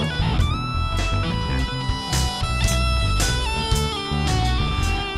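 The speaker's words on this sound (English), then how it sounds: "CrunchyGrooveWear sounds like this" Crunchy, gritty vinyl-wear effect applied to a dense music loop, with overshooting distorted transients and a steady crackling texture running loud throughout.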